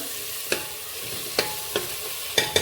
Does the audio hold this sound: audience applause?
no